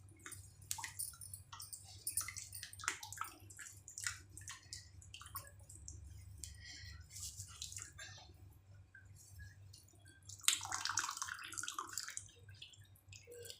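Water drips and trickles from hung chenna for rasgulla, soft irregular patters and splashes that come quietly and intermittently, with a brief louder burst near the end.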